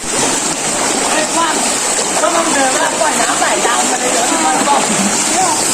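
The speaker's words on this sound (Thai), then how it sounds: "น้ำไหลแรงมาก" Strong floodwater rushing loudly and continuously during flooding in Khok Samrong, Lopburi province, Thailand, with broadband roar and splashing throughout and some voices faintly mixed in.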